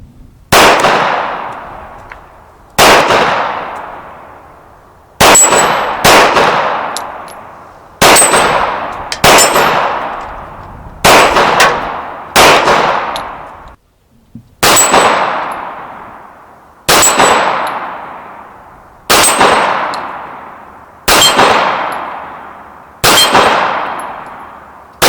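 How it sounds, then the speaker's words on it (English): Les Baer custom presentation-grade pistol firing at steel targets outdoors: about a dozen loud, sharp reports with ringing metallic clangs, spaced in an uneven rhythm of singles and quick pairs, each decaying into echo. "get back to shooting this pistol and enjoying it"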